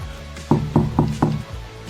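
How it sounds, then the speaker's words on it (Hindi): Loud knocking on a door in a Hindi horror story: four heavy, evenly spaced thuds sound close and alone, followed by a fading tail. "तभी अचानक दरवाजे पर किसी ने जोर से खटखटाया, मानो कोई बेसब्री से इंतजार कर रहा हो।"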